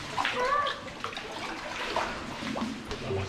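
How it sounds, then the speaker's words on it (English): Feet wading through cold water in a cave, with a soft continuous sloshing and splashing close by, low and steady, with brief voices murmuring underneath. "You're in now, you might as well just walk through the water."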